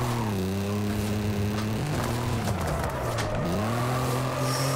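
A 1997 Mitsubishi Montero RWD build in Forza Horizon 5 revs hard in low gear, its engine note climbing and dropping through steady harmonic sweeps with tire noise, loud and close throughout.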